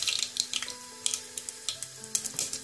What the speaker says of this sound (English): bring back the oil to medium to high heat. Add mustard seeds